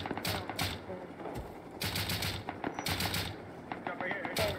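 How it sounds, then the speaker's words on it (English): Rapid bursts of gunfire from explosive weapons crackle in a video game, several clustered volleys with mechanical clanks between them, while a voice talks over the shooting. "They're shooting explosives."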